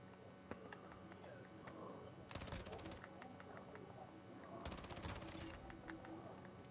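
Bursts of rapid gunfire come from a shooting video game. There are two dense volleys of quick shots, each lasting about a second or more, over a quiet background of game ambience.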